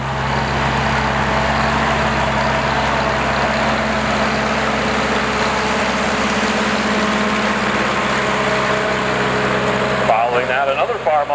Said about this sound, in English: The 1945 Farmall H, a pretty special tractor for those folks here this evening.